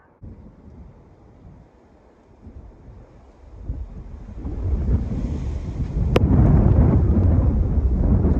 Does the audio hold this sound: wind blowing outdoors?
yes